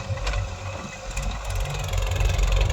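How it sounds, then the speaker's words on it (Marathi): A Swaraj 744 tractor engine runs nearby, a steady deep rumble with a faint higher clatter that swells slightly toward the end, loud and continuous with no speech. "बघू शकता आता चालू झालेलं आहे स्वराज"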